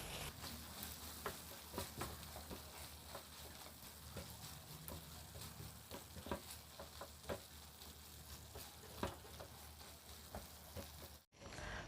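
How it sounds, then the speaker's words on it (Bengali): Onions, green chillies and beef are stirred together in a hot pan, with a steady close sizzle and repeated scraping stir strokes throughout and no talking. "সব কিছু ভালো করে মিশিয়ে নেব।"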